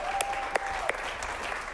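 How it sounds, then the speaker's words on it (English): An improv comedy audience applauds in a steady wash of clapping, with a few sharper individual claps popping out and a faint whistle or tone sliding underneath, fairly close and with no speech. "Give them a round of applause"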